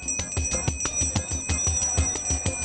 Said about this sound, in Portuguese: Toca o sino que tem picolé na área.